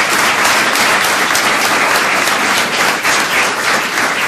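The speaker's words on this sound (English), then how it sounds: "I should start with a round of applause for His Excellency the Ambassador" Loud, dense audience applause at a school event in Doha, sustained clapping from a large crowd that carries on without a break from start to finish.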